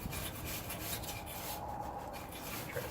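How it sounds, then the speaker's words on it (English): A Brillo pad rubs dust off the bare metal of a Ford F250 cab during a restoration, a steady close scraping and scrubbing that runs continuously without a break. "I've just got this Brillo pad here. I'll try to clean out some of this dust."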